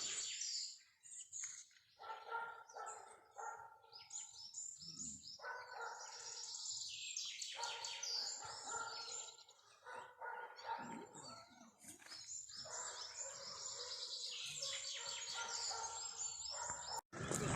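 Several birds sing and chirp in bright overlapping phrases outdoors, with short pauses between bursts of song.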